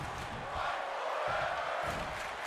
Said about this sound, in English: The crowd shout, fight forever.